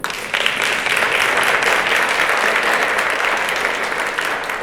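An audience at a business expo applauds steadily for the whole stretch, a dense, even wash of many hands clapping close by, with no voices standing out.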